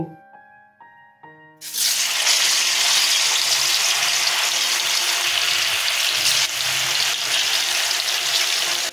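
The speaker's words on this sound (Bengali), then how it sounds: "আমি সমস্ত মুইঠাগুলো এইভাবে ভেজে নেব।" Muitha dumplings hit hot white oil in a wok, erupting into a loud, steady, broadband sizzle that holds for the rest of the clip after a short quieter lead-in of kitchen clinks.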